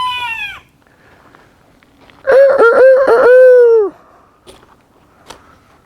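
A rooster at a backyard chicken coop crows once, loud and close, with a long drawn-out cock-a-doodle-doo, between short quieter clucks and brief scuffling noises.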